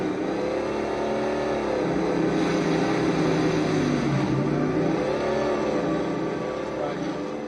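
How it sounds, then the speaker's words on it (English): Halo 3 video game vehicle engine blending a growling two-stroke with a deep, huge-sounding four-stroke exhaust, a loud continuous rumble with shifting pitch that rises and falls, voices talking over it. "you can hear the growl of the two-stroke. Then you got this really growly, 4-stroke, huge sounding exhaust."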